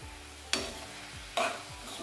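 Chinese cabbage stirred and tossed in a hot pan, two sharp scraping clatters of the spoon over a soft steady sizzle, close and clear with no talking.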